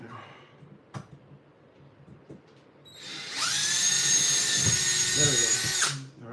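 A power drill runs during a DIY 72V e-bike battery build with JP40 cells, starting with a few handling knocks before a loud, sustained high-pitched whir that holds for about three seconds and then cuts off.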